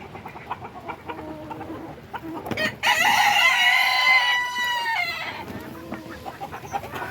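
A backyard flock of chickens on a warm rainy day, with a loud rooster crow rising out of steady nearby clucking and soft outdoor rain noise.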